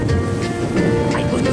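Ocean waves wash onto a video game beach, a steady, loud roar of surf with wind-like hiss running without a break.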